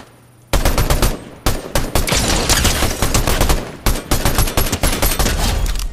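Turret gunfire from Fortnite Battle Royale gameplay: loud, sustained rapid automatic bursts with a few brief pauses, dominating the whole stretch without talk.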